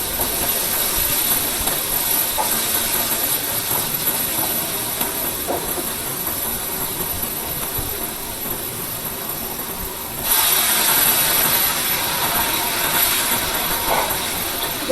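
Tomato puree frying in a pan for homemade pizza sauce, a loud steady sizzling hiss that continues throughout and grows slightly louder partway through, with no talk.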